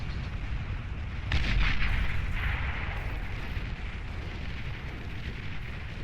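Bombing run in the real-time strategy game Beyond All Reason: a sustained, rumbling barrage of explosions with a louder burst around the second mark, dense low-end booms rolling on continuously without voices.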